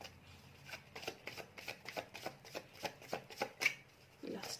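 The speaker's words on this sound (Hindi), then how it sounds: "Last shuffle, thank you." A deck of tarot cards riffles through a steady run of quick, crisp shuffles, about a dozen close bursts in a regular rhythm with no talk over them.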